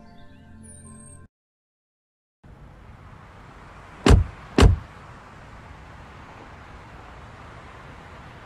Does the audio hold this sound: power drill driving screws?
no